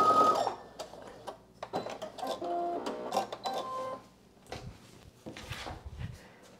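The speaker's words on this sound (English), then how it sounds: "I'm going to pivot and sew straight off" Home sewing machine stitching a vest seam, close and fairly quiet, with short mechanical runs of rapid needle clatter broken by pauses, clicks and handling noises as the fabric is pivoted.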